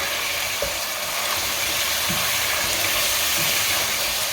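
Chicken karahi fries in a pan while ground coriander and cumin powder are stirred in, giving a loud, steady sizzle and hiss with faint scraping stirs underneath, close up and with no talking.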